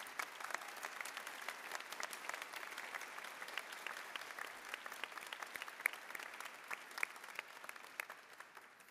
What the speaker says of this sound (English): why don't we give a round of applause for all the loved ones